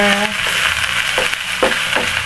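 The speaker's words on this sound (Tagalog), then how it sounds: "sunod na natin yung onion. Then, saute." Onion and garlic sautéing in a pan for fish and milkfish afritada, a steady close sizzle with a few short scraping stirs, no talking.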